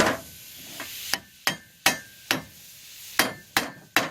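A hammer strikes a backhoe's metal U-joint about nine times at an uneven pace, each sharp clank ringing briefly before fading; no talking.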